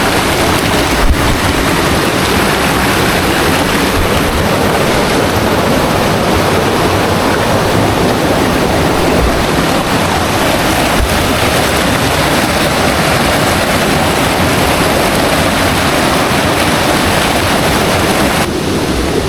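River water rushing along a mountain hiking trail on Mount Wilis, a loud, unbroken broadband roar that stays close and constant for the whole stretch, with no voices over it.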